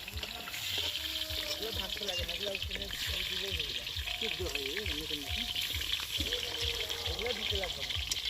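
Potatoes and whole garlic fry in oil at an outdoor family New Year picnic, with a steady, bubbling sizzle running under nearly continuous talk.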